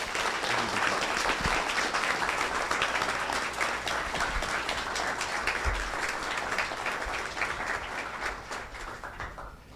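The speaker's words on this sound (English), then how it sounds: "Let's give another round of applause to Edwin." Sustained applause from a seated audience at a talk, a dense steady wash of many clapping hands that slowly thins and fades toward the end.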